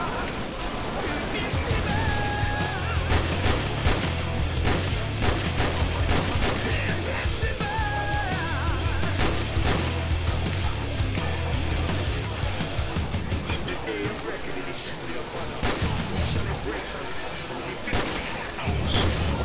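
Gunshots in a Custom Zombies shooter game on a streets map: a dense, continuous barrage of rapid gunfire and booms, loud throughout, with people talking over it.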